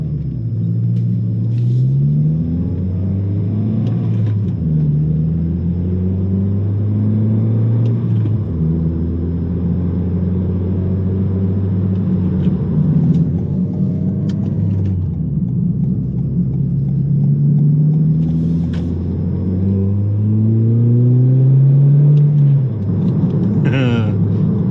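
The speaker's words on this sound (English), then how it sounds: "4-cylinder naturally aspirated sounds really good" A naturally aspirated 4-cylinder Toyota Corolla Hatchback with a 2J Racing catback exhaust and manual gear changes drones loudly from inside the car, the exhaust note rising through each gear, dropping at each shift, then climbing again, with occasional talking over it.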